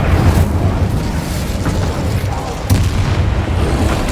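Incendio fire spell cast in the action game Hogwarts Legacy, a dense booming burst of fiery game effects that stays loud throughout, with a fresh impact near the end amid continuous rumbling noise.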